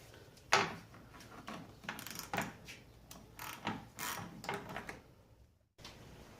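Ratchet wrench loosening the terminal on a car battery under the hood of an Infiniti G20, a run of close, clicky mechanical ratcheting bursts in short uneven strokes, pausing briefly near the end before resuming.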